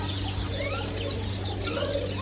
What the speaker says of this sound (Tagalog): The small birds.